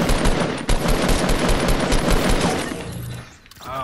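Rapid automatic gunfire in the Fortnite video game rattles in dense, loud bursts for most of the stretch, then drops away before a brief resumption at the end.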